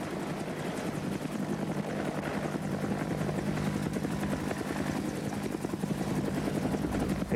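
A military helicopter flies during special operations air movements, its rotor producing a steady, dense thudding roar that fills the whole stretch without pause, loud and continuous.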